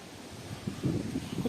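Gusty wind buffets the microphone beside a car with low rumbling bursts that grow stronger toward the end, with no voices.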